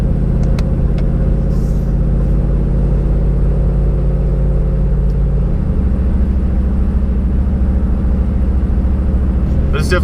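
A cammed Chevrolet Silverado truck with a stock torque converter drives along, its engine a steady, loud low rumble that drops in pitch partway through as it shifts, with no talk over it.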